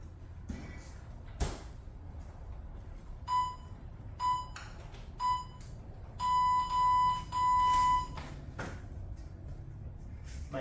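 Workout timer beeps in a garage gym: several short electronic tones, then three longer sustained beeps, clear over a low background hum.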